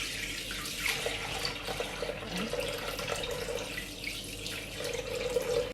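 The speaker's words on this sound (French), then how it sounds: "Je vais placer mon kilo d'eau" About a kilogram of water is poured into a Thermomix bowl for homemade gnocchi, a steady close splashing trickle that runs continuously for several seconds in a quiet kitchen.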